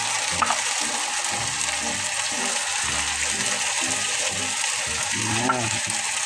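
Century canned tuna frying in a pan for carbonara, a steady broadband sizzle throughout with occasional stirring scrapes and clinks, close by.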